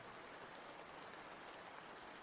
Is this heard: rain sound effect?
yes